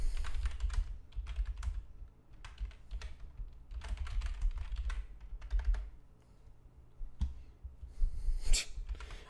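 Rapid typing on a computer keyboard, a dense run of close, clattering keystrokes in bursts with brief pauses, heard alone without talk.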